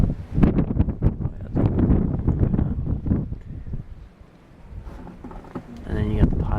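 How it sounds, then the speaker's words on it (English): Strong gusty wind during a Chicago blizzard buffets loudly in bursts, rising and falling, with a person speaking over it near the end. "Ooh, that wind's bad."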